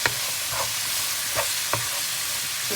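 Chopped tomatoes sizzle gently in a pan for a crab curry, a soft continuous frying hiss broken by a few light stirring scrapes and clicks.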